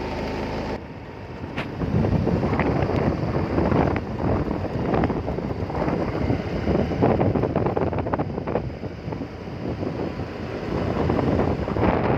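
Cold night wind blows steadily outdoors, buffeting the microphone with a constant rough rumble for the whole stretch and no voices.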